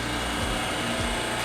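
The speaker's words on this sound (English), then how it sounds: "Drill." A power drill bores shelf pin holes in a base cabinet, a continuous close whirring grind that holds steady throughout with faint low pulses as the bit cuts.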